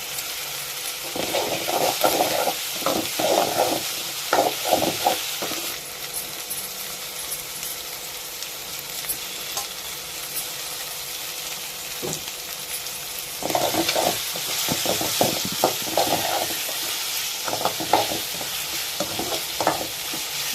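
Green chilies and curry leaves with ginger-garlic paste sautéing in a hot pan: a steady close sizzle broken by rhythmic scraping stirs and light metallic clinks, louder in two busy stretches.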